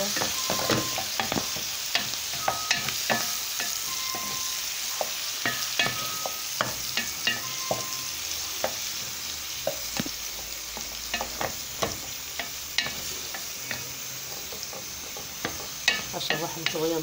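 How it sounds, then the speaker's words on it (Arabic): Diced peeled tomatoes stirred with onion and pepper in a frying pan, a steady oily sizzle broken by frequent scraping clicks of a spoon against the pan, close and continuous. "هشوحهم شوية مع بعض"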